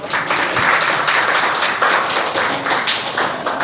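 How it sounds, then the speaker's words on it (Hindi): Workshop audience applauding at a Bhakti Sastri book reading session, a dense, sustained burst of hand clapping from many people that stays loud throughout. "आपने ताली तो बजा दी"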